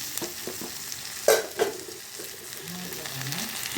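Chopped tomato fries with browned onion in a pan, a steady close sizzle broken by a few clattering stirs of the spoon, with faint tonal sounds toward the end and no speech.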